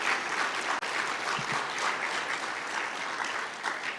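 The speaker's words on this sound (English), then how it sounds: "give yourselves an energetic round of applause" Forum delegates in a large conference hall give a sustained round of applause, a broad, even wash of many hands clapping, with a momentary dip early on and no speech.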